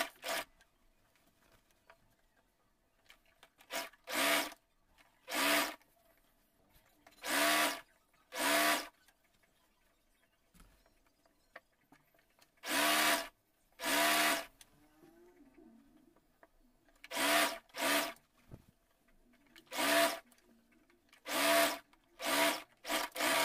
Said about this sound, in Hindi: अब यहाँ पर सिलाई लगाते हुए पूरी गोलाई में सिलाई लगाकर इसको हम अटैच कर लेंगे